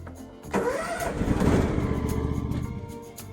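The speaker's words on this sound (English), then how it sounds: "Now we're going to start the mower and let it run for a little bit" A lawn mower tractor engine cranks and catches, then settles into a steady, close, loud running rumble with an uneven idle chop.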